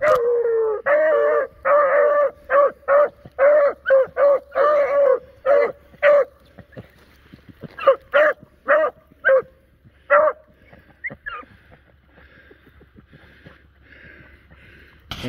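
A hound barks and bays in rapid repeated bursts while chasing a rabbit, loud at first, then more broken and fading as the dog moves off.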